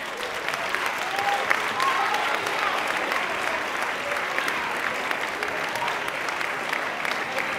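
Sustained applause from a crowd at a sports gala honoring champions, a dense, even patter of clapping at moderate distance that continues steadily throughout.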